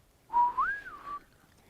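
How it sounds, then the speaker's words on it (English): A lone hunter whistles out in elk and whitetail country, one short rising-and-falling whistled phrase, clear and moderately near against quiet surroundings. "somebody whistling. It was another hunter"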